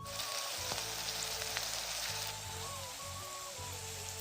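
Onion and tomato sizzle in oil in a wok, a dense, steady crackling hiss that runs throughout with no speech.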